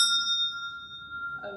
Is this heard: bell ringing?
yes